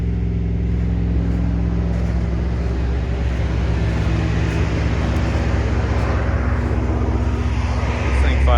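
A 1970 Ford Maverick engine in cold, snowy weather holds a steady, loud, droning run that slowly settles toward idle, heard close up.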